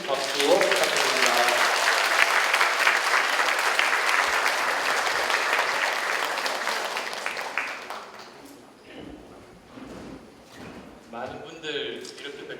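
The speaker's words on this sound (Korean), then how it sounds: "환호 큰 박수 부탁드립니다." Big applause from an audience welcoming a National Assembly member onto a stage, loud dense clapping for several seconds that fades away, with a few voices and rustling near the end.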